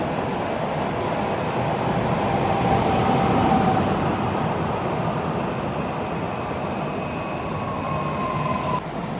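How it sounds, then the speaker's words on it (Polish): An SKM S40 commuter train on the Warsaw line from Piaseczno to Warszawa Główna rumbles past steadily and loudly, a continuous roar of wheels and wagons with faint high squeals, no voices. "szybka kolej miejska w Warszawie, linia S40 z Piaseczna do Warszawy Głównej"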